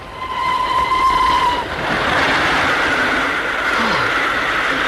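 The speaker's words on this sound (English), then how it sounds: "The train going into the tunnel." A steady, loud rumble of a moving train entering a tunnel, with a sustained tonal whine that fades as the roar shifts and fills in, sounding enclosed.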